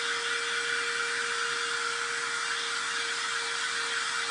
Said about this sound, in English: Have you ever seen a dryer that little? It actually has a high and low setting and works really well.